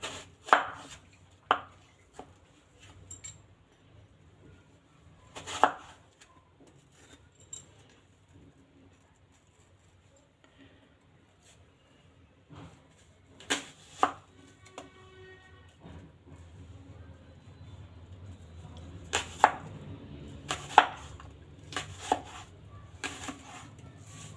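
Knife chopping a red-skinned, white-fleshed vegetable on a board for Russian salad: scattered sharp chops, sparse at first, then a denser run of loud cuts toward the end, with no talking.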